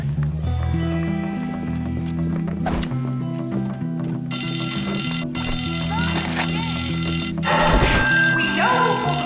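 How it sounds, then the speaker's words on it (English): A fire alarm bell rings in the school-set video game Bully, breaking in partway through and continuing loud and unbroken over layered game music and ambient effects. "Someone pulled a fire alarm down"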